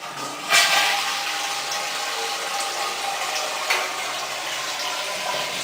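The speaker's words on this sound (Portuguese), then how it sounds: "Vamos lá, descarga." A newly installed toilet flushes with strong water-line pressure, a steady close rushing and hissing of water that runs for several seconds with brief splashy surges.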